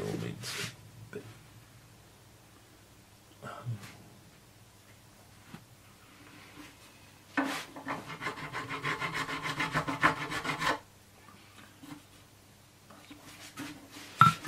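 Rasping file strokes on the frets of a tenor guitar during a re-fret, a few short scrapes and then a longer run of repeated back-and-forth filing, close and fairly quiet.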